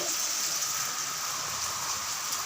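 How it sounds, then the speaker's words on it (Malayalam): Steady heavy rain pours down outside a veranda in Kerala during the monsoon, a continuous dense hiss with no pauses and no voices. "അപ്പോഴതാ മഴ ഉഷാറായിട്ടുണ്ട്"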